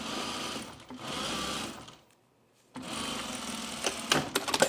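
A sewing machine runs in steady bursts while stitching flat felt seams on a pair of men's jeans, with matching thread top and bottom. A loud, continuous whir stops briefly for a silent gap, then resumes with clicks and knocks near the end.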